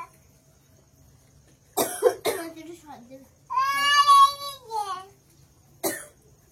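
A woman coughs several times, close and sharp, with short strained vocal sounds and a hoarse drawn-out tone between the coughs in an otherwise quiet room.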